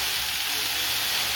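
Banana flower frying in hot cooking oil with cumin gives a steady, close sizzle and crackle that stays even and unbroken throughout.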